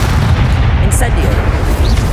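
The Incendio fire spell is cast in Hogwarts Legacy, producing dense, loud, continuous rumbling bursts and booms of combat that persist throughout.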